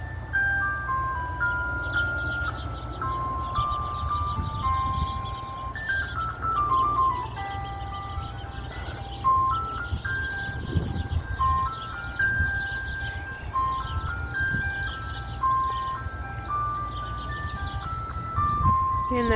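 Mickey Mouse soft serve ice cream truck playing its chiming melody over and over, a steady repeating tune heard outdoors over low street rumble, with brief voices now and then.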